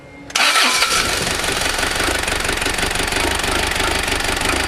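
Diesel engine of a 1995 Mazda Bongo Friendee just after a cylinder head install, cranking briefly then catching and running loud and close with a rough, uneven clatter.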